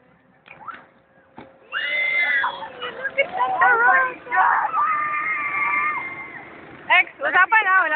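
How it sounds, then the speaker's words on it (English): Loud high-pitched screaming and shrieking from several voices, sustained and overlapping with rising and falling pitch, close by amid crowd babble. "Look at them, they're screaming like banshees."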